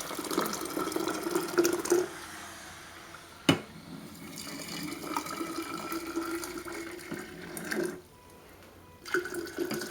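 Warm water poured slowly for making kombucha, a steady running and splashing stream that carries on for most of the stretch, with a brief knock partway through and a short pause near the end.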